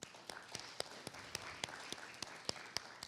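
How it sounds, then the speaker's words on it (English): An audience at a Black Arts Showcase claps in a faint, distant, sparse rhythm, individual hand claps spaced about a quarter second apart over a soft room hum. "let's clap."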